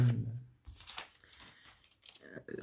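Backing strips off a roll of 9 mm double-sided tape in quick crackly tearing pulls, close and sharp, with a voice talking over part of it.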